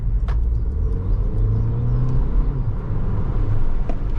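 A Porsche Macan is driven on the road, its engine a steady low rumble from inside the cabin, with humming drone tones shifting slightly as the car moves along.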